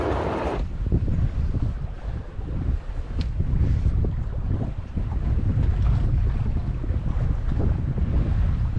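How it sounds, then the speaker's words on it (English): A sailboat moves under sail on a river, with steady rushing wind buffeting the microphone and a low wash of water around the hull, continuous and close, with no engine or voices. "I really do love that peaceful, quiet sound of sailing"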